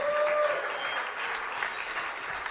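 A nightclub audience at the Cicada Club applauds a swing band, dense clapping that starts strong and tapers slightly while staying continuous, moderately loud with a faint room hum beneath.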